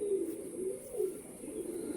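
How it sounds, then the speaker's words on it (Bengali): A female Madras pigeon with clipped wings coos in a low, steady, soft murmur, the repeated cooing phrases running continuously close by with no voices over them. "এটা মাদি পায়রা"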